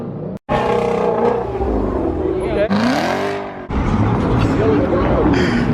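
A Nissan car's engine revs loudly at a Houston cars-and-coffee meet, surging and falling in several bursts with crowd chatter and voices mixed in throughout.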